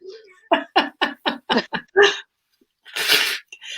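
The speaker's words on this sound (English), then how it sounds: "I'm so sorry about blowing my nose, but my nose is streaming" A person with a cold and a streaming nose blows it in a few quick honking bursts, then one longer, louder blast after a short pause, close to the microphone.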